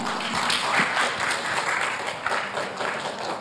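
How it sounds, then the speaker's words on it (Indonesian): Sustained audience applause at an evening gathering at a university, a dense, steady crowd clapping that stays fairly loud and even throughout, with no talking over it. "Sekali lagi beri tepuk tangan yang meriah untuk Bapak Refli Harun."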